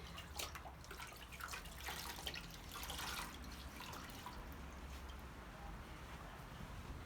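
Water faintly trickles and drips as a Norwex cleaning cloth is wetted for washing windows and a window screen, a soft, steady, distant wash of liquid with no clear talk.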